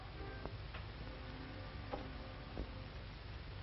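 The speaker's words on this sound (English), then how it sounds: "Here's my alarm clock." A wind-up alarm clock in a 1930s bedroom ticks faintly and steadily, its soft regular clicks sitting over a low background hum with no talk.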